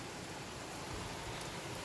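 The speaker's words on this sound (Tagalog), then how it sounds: "Det regnar mycket nu igen." Heavy rain pours steadily as a dense, even hiss at close range, with no breaks and no voices over the whole stretch.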